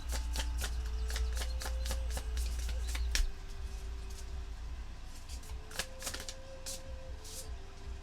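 Tarot cards shuffled in a run of crisp riffling slaps and taps, close and fairly steady, over a low hum and faint tonal background.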